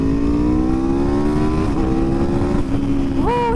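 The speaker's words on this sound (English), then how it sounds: "it has the V4 engine, which is so much different than the BMW" An Aprilia RSV4 RR with a V4 engine drones loudly and steadily, its pitch climbing slowly under load and then jumping sharply near the end as it revs harder.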